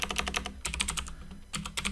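Rapid typing on a computer keyboard, close and crisp, with irregular bursts of clicking keys separated by brief pauses.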